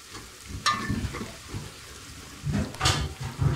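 Garlic and ginger frying in a pan with onion, a soft sizzle with bursts of stirring and scraping at intervals, moderately close, no talking.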